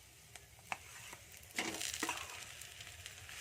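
Grated potato stirred and fried with spices in a pan: a faint, steady sizzle with light scraping and a few sharp clinks of the utensil against the pan, no talking.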